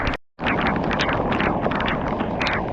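Strong wind buffeting the microphone in continuous roaring gusts, after a brief silent dropout at the start.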